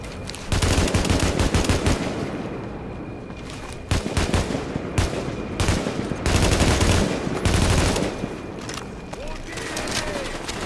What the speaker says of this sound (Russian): Пулемет у него